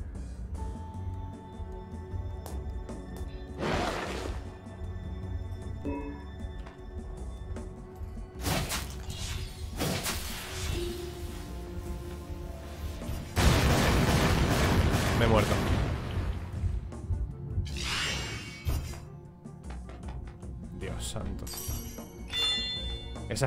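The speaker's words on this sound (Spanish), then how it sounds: "Esa explosión no me la esperaba para nada." Explosions in the video game Crown Trick, several booming bursts with a larger blast midway through, set against game music and effects while a person talks over the gameplay.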